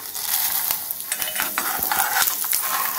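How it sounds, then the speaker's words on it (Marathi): Lentils and spices for sambhar are dry-roasted and stirred in a pan, giving steady scraping and rustling with a soft sizzle and occasional clicks of a spoon against the pan. The sound is close and continuous. "डाळींना थोडं व्हायला वेळ लागतो आणि त्या लालसर आपल्याला परतून घ्यायच्या"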